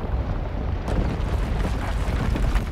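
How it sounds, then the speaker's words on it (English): Volcano erupting in Zelda: Tears of the Kingdom, with molten rock crumbling in a dense, continuous loud rumble that swells steadily throughout, with no voices over it. "It's like all that molten rock is crumbling back into the center."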